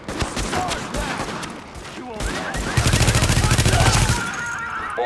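Rapid machine gun fire in The Division video game, a dense rattling burst of fast repeated shots mixed with game effects and excited voices talking over the action.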